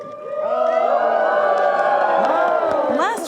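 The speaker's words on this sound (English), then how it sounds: "Last fall, a cheer went up as a grand hotel from a bygone era got a little closer to opening its doors." A crowd cheers and whoops loudly at the reopening of a grand hotel from a bygone era, a dense, sustained roar of many voices with shrill shouts rising above it.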